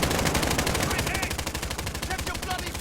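Rapid automatic gunfire in Call of Duty Modern Warfare survival mode, a dense stream of fast machine-gun shots cracking loudly and continuously, close and unbroken across the whole stretch.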